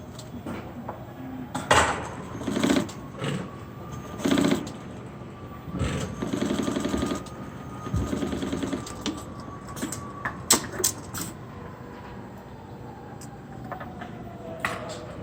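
A sewing machine stitches a 3/8-inch top-stitch seam on a face mask, running in several short bursts of rapid mechanical whirring separated by pauses, with clicks and handling noises in between.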